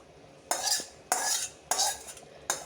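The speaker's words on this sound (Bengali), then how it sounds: "এবার আমি চিকেনটা মিশিয়ে দেব, চিকেনটা এর সঙ্গে মিশিয়ে দেব।" A spoon stirs chicken into a pot of kedgeree in four separate scraping passes, each a rough clatter of utensil against the pot, close and fairly loud with short quiet gaps between them.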